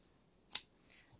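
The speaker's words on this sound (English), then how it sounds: "cut off my yarn" A single quick snip of scissors cutting crochet yarn while finishing a lace flower blanket, a sharp close click standing out briefly against near silence.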